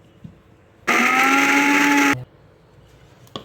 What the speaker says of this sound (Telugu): ఇప్పుడు దీన్ని మిక్సీ వేసేసుకుందాం.